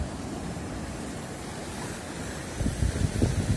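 Continuous rushing surf with wind noise on a stormy February seafront in Turkey, then heavier waves splashing and churning close by toward the end.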